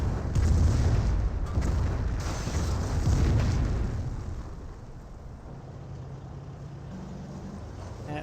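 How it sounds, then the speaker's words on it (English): Calliope rocket barrage in Company of Heroes, a rumbling run of heavy booms and blasts that is loud at first and then fades into a lower, steady battlefield rumble. "Calliope Barrage running on in."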